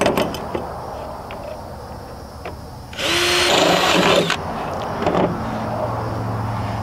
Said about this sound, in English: you're going to drill a hole in the top of the bracket